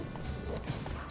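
Horse hooves clop steadily in Witcher 3 during a fight with wolves and ghouls, a continuous busy game mix with soft thuds and occasional louder knocks.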